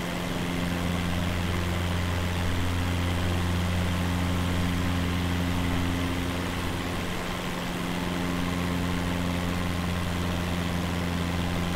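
A steady aircraft engine drones on in a flight simulator during a virtual flight over Fuerteventura, a constant low hum with fixed tones and no change in pitch, with no voices over it.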